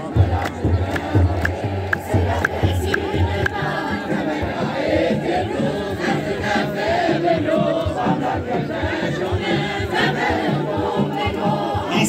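A church congregation celebrating the feast of Saint Gabriel breaks into loud, sustained ululation in thanks, many voices trilling together with crowd cheering over a low drum-like rumble, dense and continuous.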